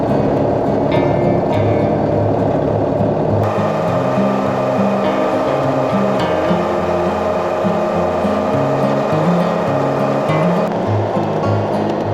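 A vintage Ford Workmaster tractor engine runs loud and steady after a cold start in snow, a continuous close rumbling drone that shifts slightly in pitch partway through.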